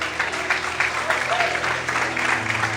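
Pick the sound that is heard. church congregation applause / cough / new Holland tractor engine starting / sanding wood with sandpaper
church congregation applause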